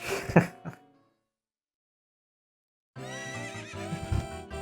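A short snort and whinny from a horse in The Legend of Zelda: Ocarina of Time, then silence, followed by a longer, rich neigh with layered tones, heard clearly and alone.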